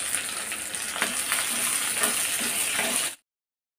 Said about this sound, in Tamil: 2 தக்காளி இதோட போட்டு வதக்கிடலாம்